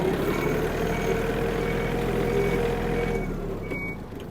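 A Yanmar F-210 or Kubota T-220 compact tractor changes direction. Its engine drones steadily and close by under a thin, continuous reversing tone that fades slightly toward the end.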